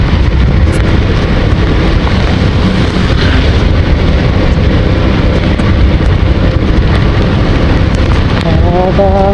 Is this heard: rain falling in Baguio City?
yes